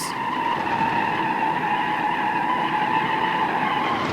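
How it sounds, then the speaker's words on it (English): Crown Victoria tires skidding in BeamNG.drive, a sustained, loud, steady screech running unbroken through the clip with no talk over it. "the car will do donuts, it will do burnouts, it will rip mad skids"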